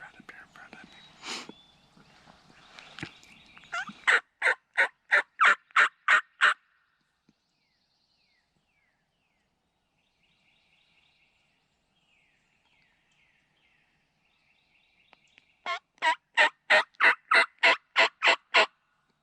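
A wild turkey gobbles from the South Carolina woods about 200 yards away, two rapid rattling bursts of gobbling separated by near silence, with faint whispering at the start.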